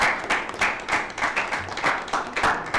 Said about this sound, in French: on peut applaudir pour ça